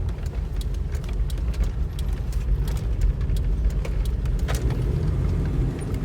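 An 80 series Land Cruiser on 33-inch tyres rolls through a tight turn, its engine and road rumble a steady low drone, with light clicks and rattles from the cabin throughout and no talking.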